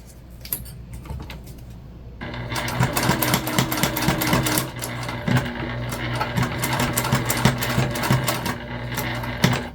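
A sewing machine top stitches along the zipper of a fabric dual pouch wristlet, a fast steady mechanical clatter close up that starts after a quiet moment and runs continuously.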